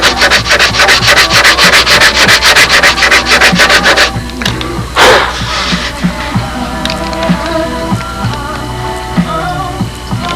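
Plywood on a model aircraft engine nacelle is sanded by hand with fast, rhythmic rasping strokes up close, then slower, lighter scraping and rubbing follows.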